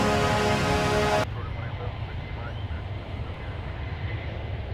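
An Airbus A321neo jet takes off at DFW airport as a continuous broadband roar, steady and fairly loud from a distance, with people talking nearby.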